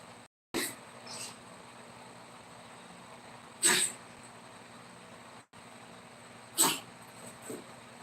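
A sick dog gives three short, sharp sneezing or coughing bursts, spaced a few seconds apart, close and moderately loud over a faint steady background hum.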